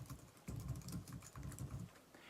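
Keys clatter on a computer keyboard in soft, quick bursts of taps with brief pauses between groups, faint and close.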